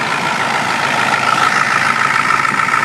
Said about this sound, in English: Good old turbo diesel.